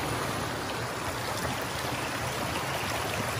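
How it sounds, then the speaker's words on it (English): A lovely little river runs under overhanging trees in Perth, Western Australia, giving a steady, close, even rush of flowing water with no pauses or voices. "Overhanging trees, lovely little river."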